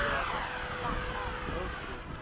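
Hawk jet trainer in a four-ship formation powering up during a touch-and-go at Bayside, a steady loud engine roar filling the whole clip.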